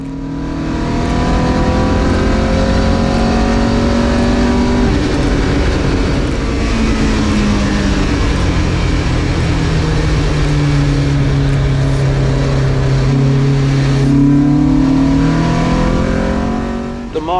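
A Marcos race car accelerates hard in a race at Donington. The engine note is loud and close and climbs and drops through gear changes, with other cars' engines droning around it and no talk.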